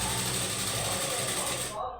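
Sewing machine stitching Punjabi dress pants, a steady close mechanical whir running continuously before cutting off abruptly near the end.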